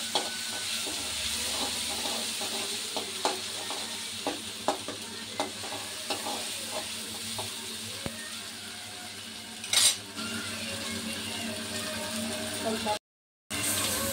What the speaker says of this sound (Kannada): ಮೆಣಸಿನ್ಕಾಯಿ ಏನು ಕುಟ್ಕೊಂಡಿರ್ತೀವಿ ಅದನ್ನು ಹಾಕ್ಕೋಬೇಕು. ಎಣ್ಣೆಲಿ ಫ್ರೈ ಮಾಡ್ಕೊಬೇಕು ಚೆನ್ನಾಗಿ.